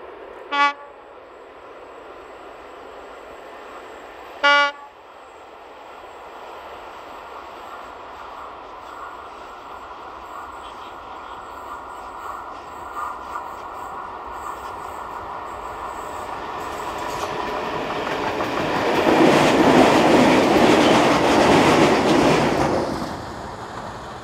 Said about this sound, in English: This is freight train 68720 again, and on this date it had 751192 in charge as it heads south past the camera.